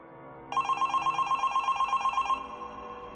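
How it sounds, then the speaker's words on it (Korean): A telephone bell rings in one continuous rapid trill lasting about two seconds, fairly close and clear over a quiet background. "전화벨이 울렸어요."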